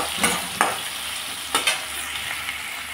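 Oil sizzles steadily in a pan while a spatula stirs a spicy ilish fish-head dish with green chillies, with a few sharp scraping strokes standing out near and clear and no talking.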